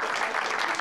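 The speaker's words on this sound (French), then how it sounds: "On l'applaudit." A brief stretch of steady applause from an audience at a meeting on autism and employment, a continuous patter of clapping with no pause.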